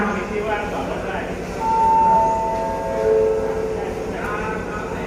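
A train at a Thai railway station on the southern line at Ratchaburi, with a low rumbling hum and a steady tonal whine rising and fading over it, alongside background station noise.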